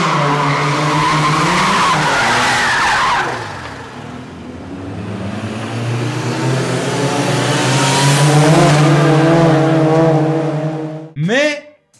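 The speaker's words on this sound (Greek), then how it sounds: "κάποια στιγμή γυρνάει 180 μοίρες στο αμάξι του ο DK" A car's tires skid and squeal as it spins 180 degrees in a drift, a long loud screech with engine roar beneath and rising pitch sweeps, speech faintly mixed in.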